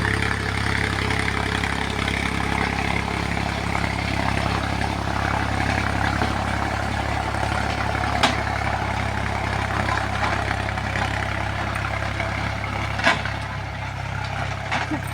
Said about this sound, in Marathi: ट्रॅक्टर आलाय आता सारे पाडू राहिलंय.